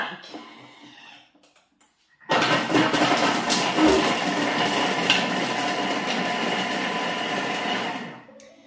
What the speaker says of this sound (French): je mets tout ça dans mon bol et je vais mixer comme d'habitude 5 secondes, vitesse 5.